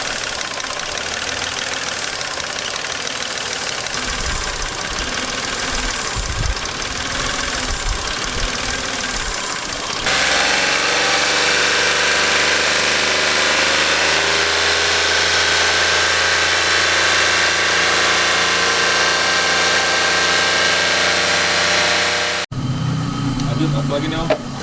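A Mitsubishi car engine idles steadily during cleaning in a workshop, a constant close hum and rumble with a tonal drone that shifts partway through, ending with a brief change in sound.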